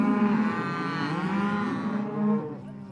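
A calf or cow bawls in a long, loud, continuous moo that wavers in pitch, close by at a cattle branding on a ranch, with no talk over it.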